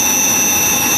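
A Mollart Omnisprint LD2-750 CNC knee-type deep hole gun drilling machine runs two spindles at roughly 1,500 and 2,000 rpm, giving a loud, steady high-pitched whine with constant tonal hum and no pauses.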